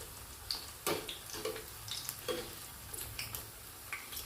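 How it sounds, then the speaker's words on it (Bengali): Jalebi deep-frying in hot oil while being stirred, giving a soft steady sizzle with scattered light clicks and scrapes from the stirring. "ভালো করে কিছুক্ষণ নাড়িয়ে চাড়িয়ে ভেজে নিতে হবে।"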